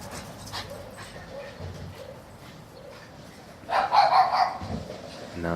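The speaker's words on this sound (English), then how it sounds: "No, that's my dog freaking the fuck out." A dog indoors pants, whimpers and lets out a short burst of barking, fairly faint and close, with quiet background noise between the sounds.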